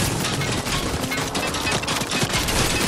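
Rapid automatic gunfire in the video game Fortnite, a dense continuous burst of shots crackling close and loud for several seconds with no talk over it.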